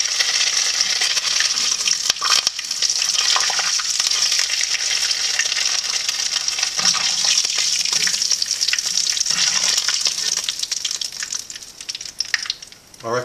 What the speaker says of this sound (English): Going to see how the temperature of the oil is, whether it's ready to fry.